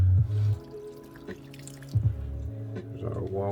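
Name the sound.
hot water poured into instant noodle cup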